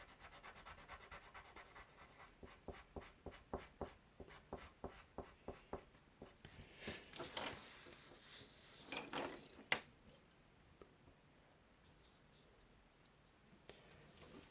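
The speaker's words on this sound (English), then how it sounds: "And we blend that out using a blender pencil." A blender pencil rubs colored pencil pigment on grey paper in a rhythmic series of close, soft scratchy strokes, followed by a denser burst of rubbing, then quieter faint scraping.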